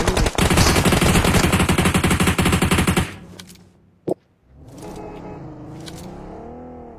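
Rapid automatic gunfire rattles loud and close in a video game for about three seconds, then gives way to a single sharp report and a vehicle engine revving beneath.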